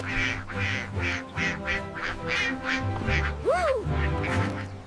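Cartoon ducks quack repeatedly at a duck house on a farm, a rhythmic series of nasal calls close by, with a sliding whistle-like tone and low music underneath.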